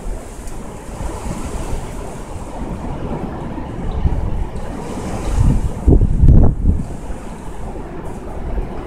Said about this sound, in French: On a la première neige dans une tempête de vent de la mort.